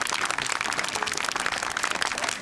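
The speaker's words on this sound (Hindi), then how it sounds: "तालियां" Brisk, dense applause from an audience at a local tree-planting gathering welcoming a politician, steady and close throughout the short stretch with no talk.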